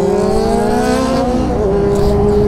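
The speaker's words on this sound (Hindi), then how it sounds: "भाई लोग निकल दिए धीरे धीरे अपनी पल्सर निंजा और डेटोना" Pulsar, Ninja and Daytona motorcycles pull away together, their engines droning in a steady layered hum that climbs gradually in pitch as they accelerate, loud and close throughout.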